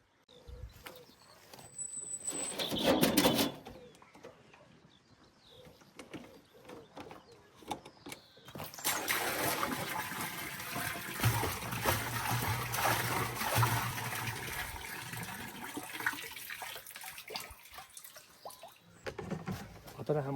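Water pumped into a garden rain barrel trickles and splashes steadily, a soft continuous rush after a brief louder burst near the start, faint and close.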